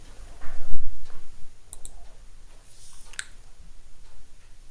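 Computer mouse clicks on a job listing, a few quick sharp taps spread across several seconds against a quiet low hiss.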